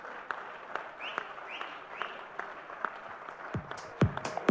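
Audience applause at an Amway product launch event, scattered hand claps from a crowd at moderate distance, fairly sparse and uneven, growing a little louder toward the end.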